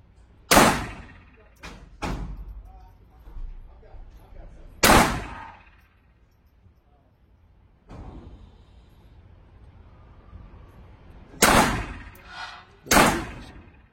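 Handgun shots ring out at a shooting range, several sharp, loud reports spaced seconds apart, with softer thumps and handling clatter between them.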